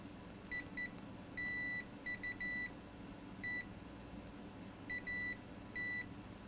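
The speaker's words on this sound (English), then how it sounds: "Okay, so meter in continuity mode." Multimeter in continuity mode during a 2012 MacBook Pro motherboard repair, giving a series of short, clear high beeps in irregular clusters over a quiet background hum.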